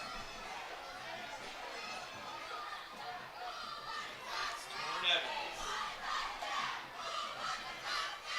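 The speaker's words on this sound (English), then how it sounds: "Susquehanna Township crowd all fired up now, getting the stop on West Prairie's first drive" A Susquehanna Township home crowd at a PIAA high school football game roars and shouts after a defensive stop, a dense, rowdy swell of many voices with louder bursts of yelling rising and falling throughout.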